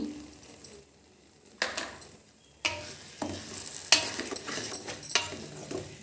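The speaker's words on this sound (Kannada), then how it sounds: "ನೀಟಾಗಿ ಕಲಿಸ್ಕೊಳ್ಳಿ ಎಲ್ಲ ಎಗ್ಗು." Eggs being stirred with salt in a hot pan for egg rice, with sizzling frying and scraping stirring strokes building in bursts over a steady crackle, close and moderately loud, no talking.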